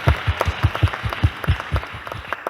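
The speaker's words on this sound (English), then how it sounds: "yes, an applause, I think," A few people clapping at a university sustainability panel, distinct individual claps in an irregular rhythm, fairly close and sparse, fading slightly toward the end.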